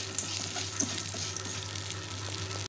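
Mango skin and lentils sautéing in a pan crackle and sizzle steadily up close, a continuous frying hiss broken by small pops.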